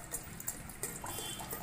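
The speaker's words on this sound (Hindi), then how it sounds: "उसके बाद इसमें बर्तन में हमें पानी को भरना है।" Cold water runs into a cooking vessel as water is prepared for panipuri, making a steady close splashing and trickling stream with a few brighter splashes and no talking.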